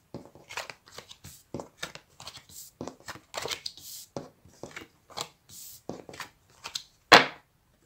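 A deck of cards used for a pick-a-card reading is handled in a long run of quick, crisp riffling and slapping bursts, close and fairly loud, ending in one sharp snap.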